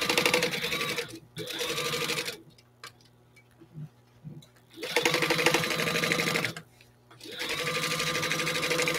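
A sewing machine runs top stitching along a fabric pencil case in three loud, steady bursts, with brief pauses and light handling clicks between them.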